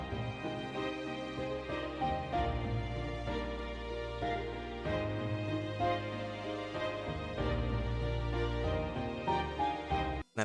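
Main theme of a JRPG soundtrack on piano and strings, with a piano counter melody woven through, played as a full, continuous arrangement with low sustained bass and rhythmic chords, moderately quiet and uninterrupted, ending abruptly.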